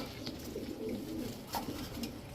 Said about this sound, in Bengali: দেখেন পাল্লা করা চুইনা চুইঠাল একটা মাদি কবুতর